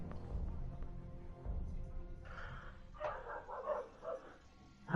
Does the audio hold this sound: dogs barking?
yes